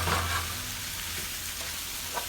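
Vegetables fry in a pan with shrimp, making a soft steady sizzle with a few faint stirring scrapes, fairly quiet and even.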